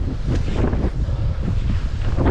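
Strong wind gusts buffet the microphone on open water near shore, with a steady low roar and no voices, as the weather turns toward a storm during a fishing trip for salmon and trout.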